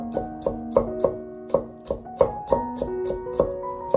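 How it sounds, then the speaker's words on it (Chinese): A knife minces crushed garlic cloves on a chopping board in quick, evenly spaced chops, each a crisp ringing knock, about three per second, close and clear with no talk. "然后剁成蒜末。"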